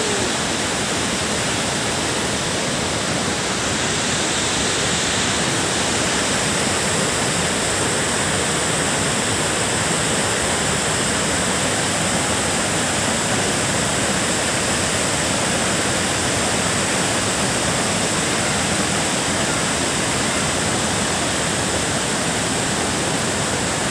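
River water rushes steadily at Tala River Park, a loud, dense, unbroken roar of flowing water close by, with no other sounds standing out.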